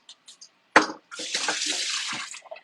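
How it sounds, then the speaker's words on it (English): Tap water running into a pot while cooking soup, a steady rushing flow lasting over a second after a short thump, fairly close and alone. "Now I can just add some more water."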